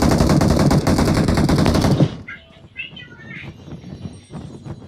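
An automatic weapon fires a loud, rapid sustained burst in a shooter video game, then cuts off, leaving a quieter stretch with brief high chirpy game sounds.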